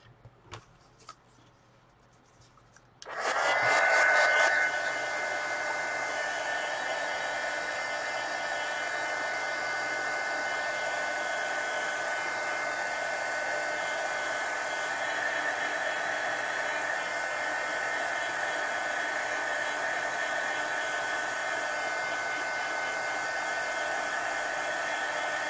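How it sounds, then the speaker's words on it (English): A heat gun blows steadily on a watercolor base coat, switching on abruptly after a few seconds of quiet and then holding a loud, even, airy roar with a faint high whine for the rest of the stretch. "I'm going to hit this with a heat gun"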